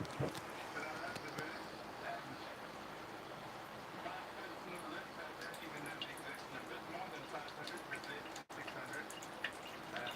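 A Keurig coffee maker drips and gurgles steadily while brewing, a fairly quiet continuous trickle that runs through the whole stretch, with a voice faintly present at times.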